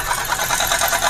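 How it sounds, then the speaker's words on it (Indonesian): A Toyota Grand New Avanza with a 1NR-VE engine runs close by with an abnormal knocking fault, a steady engine drone carrying a rapid, repeating rattle-like knock. "Ini bukan suara mesin pada normalnya."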